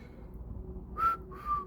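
A person whistles two short, clear notes, the second a little lower, over a quiet background.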